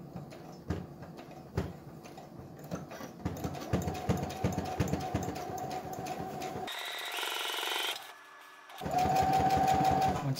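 A sewing machine runs at medium speed stitching a seam on a button-up shirt, a rapid even mechanical chatter that stops briefly then resumes, close and clear.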